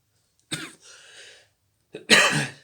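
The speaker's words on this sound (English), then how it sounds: "Second cough, and I'm done." Two separate coughs close to the microphone with a short pause between, the second one louder and harsher.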